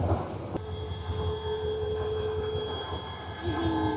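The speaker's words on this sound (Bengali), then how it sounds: "9টা 32 আমাদের ট্রেন এসে পৌঁছালো কমলাপুর রেলওয়ে স্টেশনে।" A passenger train rolls into Kamalapur railway station in Dhaka at the end of a run from Cox's Bazar, with a steady low rumble, clanking wheels and thin squealing tones near the end, heard from on board.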